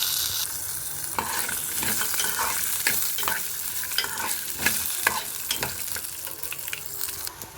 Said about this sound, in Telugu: పచ్చిమిర్చి కూడా ఫ్రై అవ్వాలండి కొద్దిగా. అలాగే ఎండుమిర్చి కూడా వేసేస్తున్నానండి.